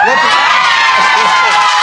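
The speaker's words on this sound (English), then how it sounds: "heard the entire family cheering" A family crowd cheering and shouting at a wedding, loud, close and continuous for a brief moment, with excited voices layered together.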